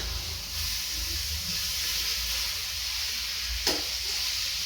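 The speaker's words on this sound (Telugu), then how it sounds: "ఇప్పుడు కొంచెం వాటర్ పోసుకోవాలండి ఇందులో." Sizzling hiss from a hot pan of chicken curry with hyacinth beans, steady and close, as water is poured in, with one brief sharp burst partway through and no talk.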